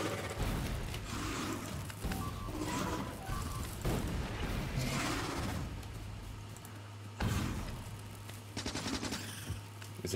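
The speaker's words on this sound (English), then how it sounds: "It's impressive how we can throw grenades with such accuracy, even through trees and everything." Gunfire and grenade blasts in the video game Factorio: continuous rapid machine-gun fire with mechanical clatter, broken by heavier booms, loud and dense throughout.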